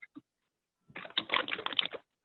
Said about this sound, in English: somebody is typing furiously